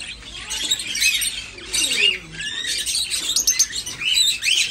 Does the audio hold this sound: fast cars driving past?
no